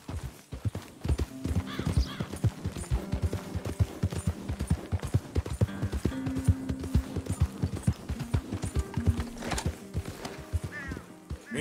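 Hooves clip-clop in a fast, rhythmic gallop from a horse in the video game Red Dead Redemption 2, close and continuous, with an occasional whinny over the pounding.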